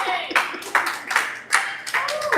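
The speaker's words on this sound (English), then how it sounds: "A big round of applause for her." An audience applauding at a live wellness session, a short burst of clapping in uneven waves, close and fairly loud with some voices mixed in.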